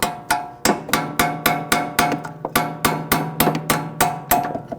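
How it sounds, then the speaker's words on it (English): A 10mm socket set on top of an Audi S4 outer tie rod is struck by a hammer about fifteen times in a steady rhythm, each sharp metallic blow ringing briefly, close and loud with no voices. "If you want, you can put a socket in the top, just like a 10mm socket."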